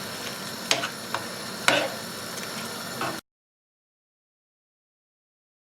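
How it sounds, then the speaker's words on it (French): Creamy shrimp pasta sauce with garlic and herbs stirred in a pan over very low heat, giving a soft steady sizzle with a few spoon knocks for about three seconds before the sound cuts to silence. "Je vais venir mélanger le tout. Donc là, je mets sur feu très doux."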